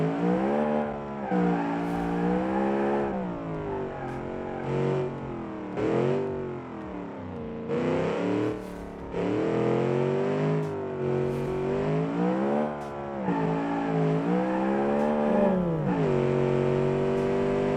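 A fast car with a roughly 1:1 power-to-weight ratio accelerates hard around a test track, its engine revving up and down through repeated pitch swings with brief dips between gears, loud and close without any talking.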